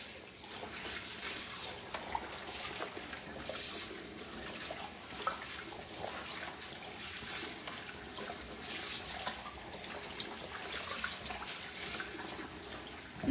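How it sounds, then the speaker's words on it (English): Tap water runs steadily into a sink while turkey necks are rinsed clean after soaking in vinegar, a continuous close splashing hiss with small gurgles throughout and no talking. "so that's why my water running clear like this"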